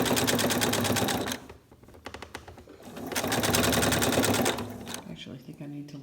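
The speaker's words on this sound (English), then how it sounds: "And I'll take my next set of stitches on this." A sewing machine stitches quilt selvages in two rapid rattling bursts separated by a short pause, then slows to a few lighter stitches, close and loud.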